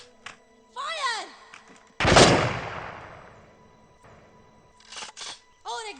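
Gunfire in a war movie scene, with one loud close blast that decays slowly, set among sharp clicks, metallic clatter and whooshing effects.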